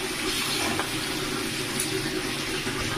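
Water poured into a pot of boiling soybeans for a soybean curry, a continuous close rush of running, filling liquid with a bubbling undertone, heard alone.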